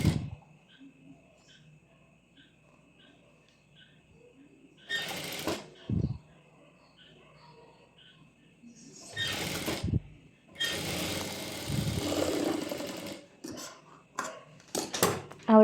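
A sewing machine stitches a lining in several separate bursts of whirring, the longest near the middle, with quiet handling noises and short pauses between the runs, close by and with no clear talk.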